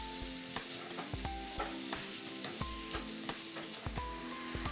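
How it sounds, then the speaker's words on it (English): Finely diced brunoise carrots are stirred and fried in a pan for shepherd's pie, with a steady soft sizzle broken by regular scraping taps of a utensil against the pan. "So I just continue mixing, and now I add in my remaining brunoise carrots."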